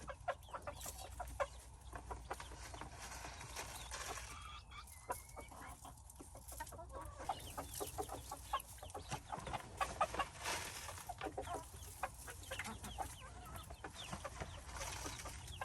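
Young chicks, about eight weeks old, clucking and chirping in a skittish backyard flock, steady overlapping calls throughout with a few louder peeps near the middle.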